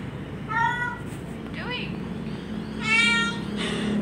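Cat meows heard in a run of short harmonic cries, two or three distinct calls spaced across a few seconds over a steady low background hum.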